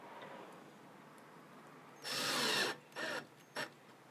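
A power drill drives screws into a satellite indoor unit: one longer whirring burst followed by two short bursts, close and fairly loud against a quiet room.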